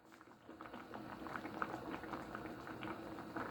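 Rice boils in a pot, a faint close bubbling and gentle popping of water that builds slightly over a few seconds, with no talking.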